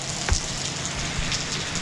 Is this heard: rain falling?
yes